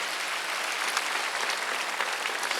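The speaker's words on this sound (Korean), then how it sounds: "박수 한번 더 해주세요." Congregation applause at a Wednesday church service, a dense, continuous wash of many people clapping, steady and fairly loud from start to finish with no talk over it.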